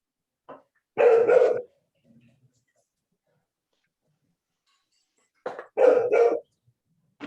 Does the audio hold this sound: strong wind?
no